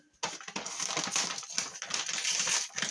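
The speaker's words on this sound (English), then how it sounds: "sorry for the noise as I open up my big bag of flour" A big paper bag of flour is torn and opened in a kitchen, giving continuous crinkly, crackling paper rustling for close to three seconds after a quiet start.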